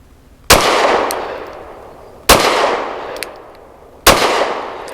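Three sharp, loud pistol shots from a Rost Martin RM1C firing MagTech ammunition, spaced about two seconds apart, each followed by a short echoing tail on an outdoor range.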